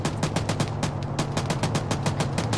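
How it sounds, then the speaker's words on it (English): A .50 caliber machine gun fires in the video game Arma 3, a rapid, regular string of sharp reports, about five shots per second, sustained throughout and fairly close. "No, it's a it's 50 cal. Nah, Fox is shooting something to the east"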